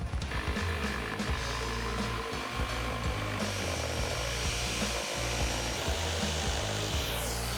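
A saw with a laser guide cuts through 3/4 inch construction grade plywood in a loud, continuous, close-up buzzing roar that holds steady for several seconds with no talk.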